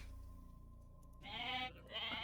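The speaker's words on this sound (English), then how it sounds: "Probably not going to use these goats for food, but I could use them just as a scout forward warning." Goats in the Age of Mythology: Retold video game bleat twice in quick succession over a low, steady in-game ambience, with each call fairly faint and wavering.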